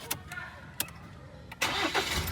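A Toyota Fortuner with automatic transmission starts up: a few short clicks and a brief crank, then the engine catches and settles into a steady idle, close and clear.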